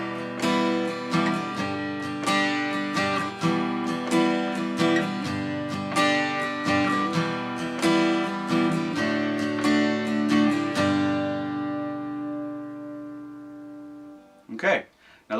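An acoustic guitar strums a song's chord progression in regular time, with bright, rhythmic strokes played close and alone before the last chord rings out and fades.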